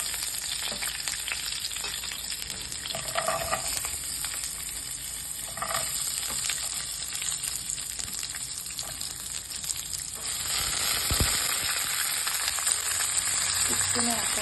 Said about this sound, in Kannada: ಹಸಿಮೆಣಸಿಕಾಯಿ, ಈರುಳ್ಳಿ, ಟೊಮ್ಯಾಟೊ, ಪುದೀನ, ಕೊತ್ತಂಬರಿ ಸೊಪ್ಪು ಇಷ್ಟನ್ನು ಎಣ್ಣೆಗೆ ಹಾಕ್ಕೊಂಡು ಫ್ರೈ ಮಾಡಿಕೊಂಡು ಹುರ್ಕೋಬೇಕು.